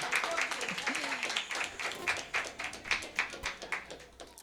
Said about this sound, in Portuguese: Uma salva de palmas para o Senhor, amém?